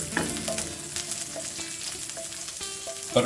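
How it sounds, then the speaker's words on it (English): Butter sizzles in a pan as the base for a roux for white sauce, a continuous close crackle with brief clinks and stirring scrapes, with no voices. "we're going to drop a couple of pieces of butter in. And we're going to make what's called a roux"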